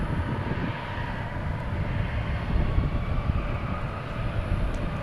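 An Embraer E-175 jet takes off at DFW International Airport, its engines producing a steady, loud low rumble that swells slightly midway and holds without voices.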